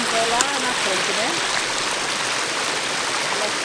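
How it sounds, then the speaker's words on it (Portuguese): Water runs loud and constant in a stream below a lagoon spillway, a dense rushing wash while someone talks briefly over it near the start. "Ó, tá vendo? As águas correndo ali, ó."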